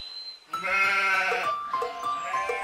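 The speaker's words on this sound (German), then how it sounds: "einen Hirtenjungen, der seine Ziegen im Tal grasen ließ" Goats grazing in a mountain valley give two long, wavering bleats one after the other, close and clear over a quiet background.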